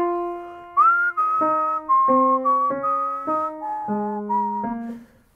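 Melodic whistling during jazz practice, a run of clear sustained notes stepping through a short phrase, close and alone with no talk.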